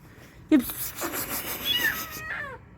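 Frightened kitten trapped inside a car, crying out with a sudden loud meow followed by several drawn-out, wavering mews that fade toward the end, close and alone.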